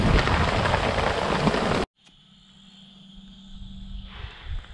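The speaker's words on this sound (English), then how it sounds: "We've been pounded by thunderstorms." Heavy rain roars loudly for a couple of seconds during a survival camp thunderstorm, then cuts off abruptly to a quieter outdoor wash with faint steady tones.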